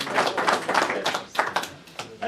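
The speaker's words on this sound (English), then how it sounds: "That gentleman gets an extra round of applause for doing that with a toddler in his hands." Applause from an audience at a carbon tax public hearing in Nephi, Utah, a short burst of scattered clapping with uneven claps, close and fairly loud, fading toward the end.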